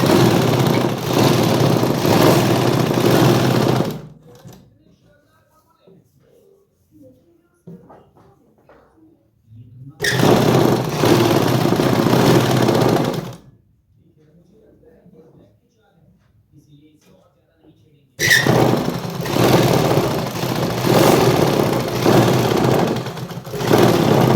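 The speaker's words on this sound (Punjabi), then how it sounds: "ਉਹ ਸਲਾਈ ਲਾ ਕੇ ਇਹਨੂੰ ਅਟੈਚ ਕਰ ਦਾਂਗੇ" Domestic sewing machine stitching a belt strip onto palazzo pants, running loud and steady in three long bursts separated by quiet pauses with faint handling noise.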